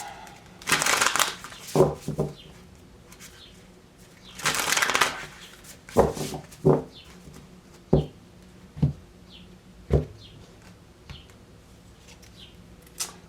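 Tarot cards are riffled and shuffled in a few quick bursts, followed by a series of sharp, separate taps and flicks spaced across a quiet room.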